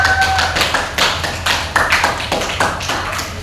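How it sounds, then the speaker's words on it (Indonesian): Students in a classroom give a round of applause for group 3 during a microteaching science lesson: dense, steady clapping from a small group, fairly close, running throughout with no talk. "Kasih tepuk tangan dulu untuk kelompok 3."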